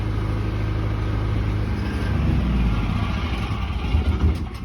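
A small Briggs and Stratton engine converted to run on propane, idling with a steady low rumble that grows rougher and louder near the end.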